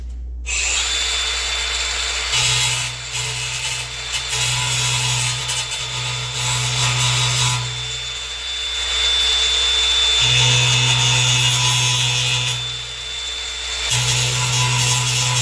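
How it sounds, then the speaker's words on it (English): A cutting wheel grinds down metal on a light-duty truck part, a steady high-pitched whine with rough abrasive grit that surges and dips in several bursts, loud and close, with no talking. "Cutting wheel to sand that off. A little more precise than a worn out flat wheel."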